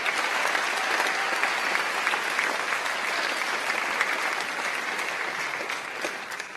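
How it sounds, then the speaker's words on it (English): Audience at a university homecoming alumni awards show gives a sustained round of applause for honorees, a dense steady clapping from a large room that tapers a little at the end. "let's give one more round of applause for our first 6 honorees"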